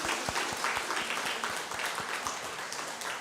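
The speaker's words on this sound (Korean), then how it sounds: "우리 두 분을 위해서 박수하고 격려하도록 축복합니다" Congregation applauding during a Sunday church service, steady dense clapping from a crowd in a hall, moderately loud and continuous with no voices over it.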